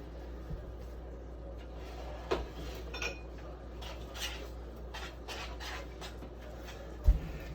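Cranberries being stirred in a pot on the stove: a spoon or utensil scrapes and rubs against the pot steadily, with a few sharper clinks and knocks, at low to moderate level with no talking.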